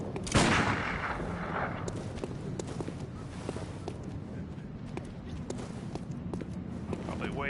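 Gunfire in the video game Bloodborne, a loud shot near the start followed by scattered sharp cracks and impacts over a busy background of game sounds.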